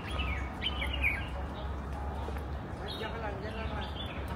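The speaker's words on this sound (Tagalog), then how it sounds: "Tapos may mga ibon-ibon din." Small birds chirp and tweet in short bright calls over a low background hum, with faint voices nearby.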